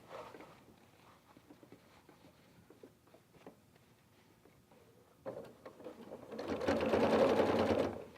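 A sewing machine stitches a gusset onto a fabric purse, running alone as a loud steady whir in the last few seconds after quieter handling of the fabric.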